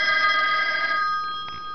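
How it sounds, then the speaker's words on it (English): A 1960 Automatic Electric three-slot payphone in excellent working condition rings with a soft, sustained metallic bell tone that fades over under two seconds. "so this is this payphone ringing back from my cell phone"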